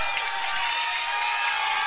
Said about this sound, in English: This crowd's going nuts, Nate!